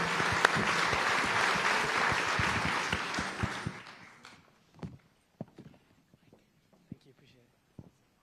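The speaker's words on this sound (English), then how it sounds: "a round of applause for them" An audience applauds panelists at a smart cities expo in Orlando. The dense clapping lasts about four seconds, then fades to a few scattered claps and faint room noise.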